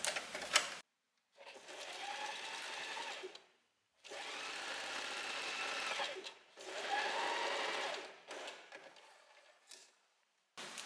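A sewing machine stitches the back pieces of a mini skirt in three steady bursts separated by pauses, with a few small clicks and handling noises between runs.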